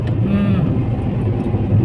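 A family car on the road to Bahraich, heard from inside as a steady engine hum and road rumble with some wind noise, while a voice talks briefly over it.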